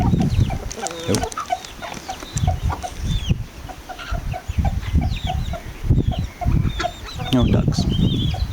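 Cockerel and hens clucking together in a farmyard, a steady run of short clucks and calls close by with occasional louder squawks, some faint bird calls overhead, and brief speech mixed in.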